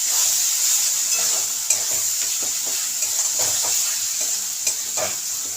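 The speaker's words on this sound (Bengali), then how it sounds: "আরও একটু কষিয়ে নেব মশলাটাকে।" Spice masala with chana masala sautéing in a pan, a constant bright sizzle with a run of soft, rhythmic spatula scrapes and taps against the pan, close up and without any speech.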